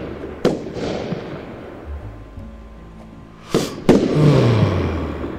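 Fireworks go off in the Roblox game Lumber Tycoon 2, with sharp bangs and crackling bursts standing out over a rumbling, noisy background and a rising whistle near the end.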